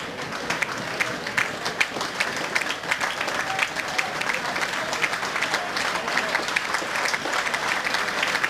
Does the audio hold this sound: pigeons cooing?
no